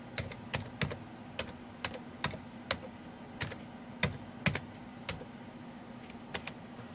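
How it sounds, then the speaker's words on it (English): Someone types a login on a computer keyboard with one hand while installing RHV-H 4.1 on a bare-metal server, making a sparse, uneven run of crisp key clicks, close and alone. "not easy to type with your left hand."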